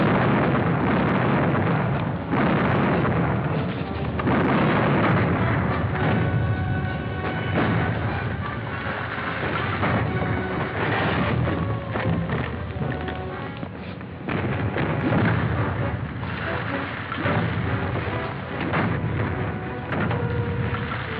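Cannon fire aboard a pirate ship in a 1953 Captain Kidd TV series, loud continuous booming and rumbling blasts layered under dramatic orchestral music, dense and sustained throughout.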